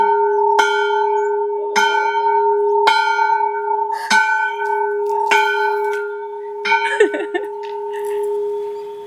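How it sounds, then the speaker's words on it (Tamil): A large old temple bell on a small hilltop, swung by a chain pulled from below, rings out about six loud, resonant strikes at a steady pace, each one ringing on under the next. "இந்த சங்கிலியை பிடிச்சி அடிக்கும் போது வந்து மணி அடிக்கும்."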